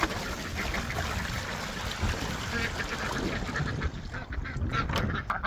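Ducks at a new waterer quack and honk in a busy, overlapping chorus close by, with trickling water and splashing underneath throughout.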